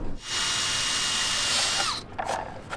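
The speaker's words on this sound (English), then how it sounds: "we're just drilling some relief holes so we can spray our spray foam" A power drill runs steadily for about two seconds with a high whine, drilling relief holes in a sailboat rudder for spray foam, then stops, followed by a few short clicks and handling noises close by.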